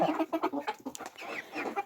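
Three-month-old backyard chickens, a mix of hens and young chicks, cluck in a quick run of short calls at close range, with no other sounds.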